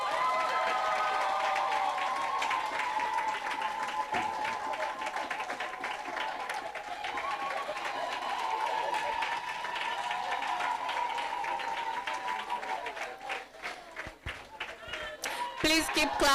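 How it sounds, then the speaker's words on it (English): Applause from an audience at a women's wealth-creation forum and certification event, long sustained clapping with crowd murmur, while an announcer calls out names over it and sharper claps stand out near the end. "Please keep clapping, please keep clapping."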